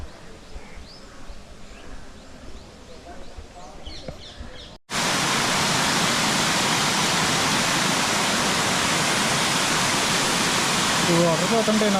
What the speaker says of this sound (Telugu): ఈ వాటర్ అలా ఫ్లోటింగ్ వస్తుంటే నాకు దాహమే వేస్తుంది